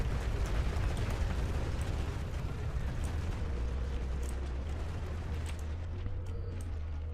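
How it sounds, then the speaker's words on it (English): A big bomb explodes during a castle siege battle in Shogun 2, a deep rumbling blast that swells and lingers beneath a dense wash of battlefield noise, with no talk over it. "We're about to get another big bomb here."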